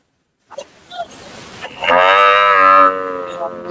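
HF cattle at the Senapuram cow market, one loud, close, drawn-out moo that rises and holds for over a second, preceded by a few softer grunts and shuffling noises.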